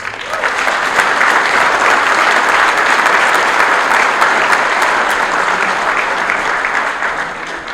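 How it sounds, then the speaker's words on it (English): Audience at a 2023 scholar-athlete awards dinner gives a sustained round of applause, loud and dense throughout, building quickly and tapering slightly near the end with no talk over it. "another round of applause"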